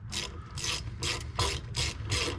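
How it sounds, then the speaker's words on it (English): A ratchet wrench clicks in six quick, evenly spaced bursts while a wheel bearing is removed from a 2011 Chevy Cruze. The close, loud ratcheting stands alone with no voices. "If my ratchet can make up its mind."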